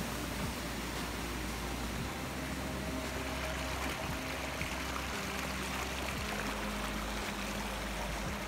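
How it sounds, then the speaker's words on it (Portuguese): A waterfall stream rushes in a steady, loud, broadband roar that holds unbroken from start to finish, close by, with no voices over it. "Estamos indo agora em direção ao pé da cachoeira."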